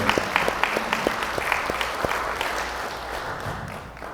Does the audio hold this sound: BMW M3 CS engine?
no